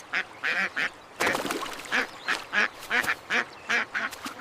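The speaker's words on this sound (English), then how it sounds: "Look! Ducks." Ducks quacking repeatedly in a steady, bouncy series of nasal calls, fairly close and loud, with a brief burst of other bird noise partway through.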